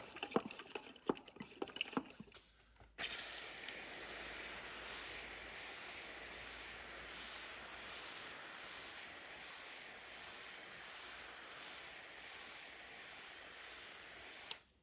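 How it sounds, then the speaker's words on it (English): A short burst of clicks and rattles from a hand pump seedling sprayer, then a steady fine hiss of spray over seedlings that continues evenly for several seconds before cutting off. "it's a seedling sprayer, or it's good for spraying, you know, houseplants or whatever"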